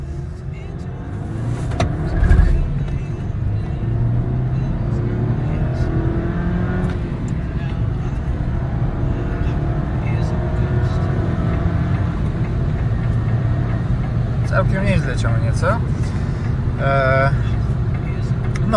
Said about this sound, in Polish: Zobaczcie od zera przyspieszenie.